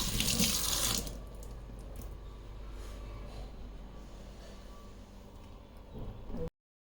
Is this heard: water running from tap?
yes